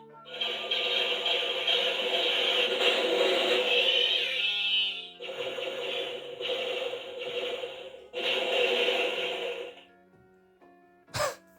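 A Hasbro Star Wars battle droid toy's electronic sound effect plays loud, harsh, buzzy bursts with short pauses between them, then a brief click near the end.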